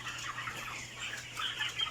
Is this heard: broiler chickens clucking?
yes